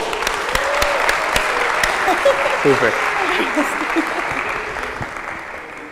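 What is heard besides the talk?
audience applause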